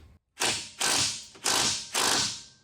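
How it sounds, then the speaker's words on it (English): A ratchet wrench works on the subframe bolts of a Toyota Supra Turbo, giving four crisp, evenly spaced clicking bursts, close and alone. "let's loosen these subframe bolts and just see if anything happens"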